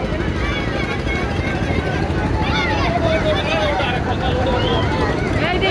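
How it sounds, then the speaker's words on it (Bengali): The passenger launch Sundarban 16 backing away from the Barishal river ghat, a steady deep engine drone and water wash filling the scene, with crowd murmur and talk in the background throughout. "আজকে ব্যাক গিয়ারে যাচ্ছে সুন্দরবন 16 লঞ্চটি।"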